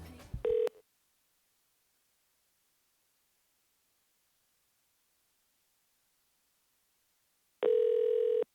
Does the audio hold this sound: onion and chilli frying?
no